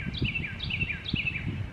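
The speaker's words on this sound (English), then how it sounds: "I don't know what that bird is." A bird repeats a bright, warbling chirp call three times in quick succession, fairly close, over soft outdoor rustling.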